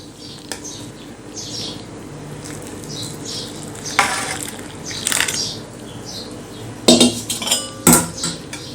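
A spoon clinks and scrapes against a metal bowl while stirring rice and moong dal dough for papad, with soft mixing sounds between a few sharper knocks near the end.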